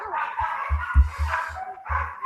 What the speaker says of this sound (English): So My dog's barking.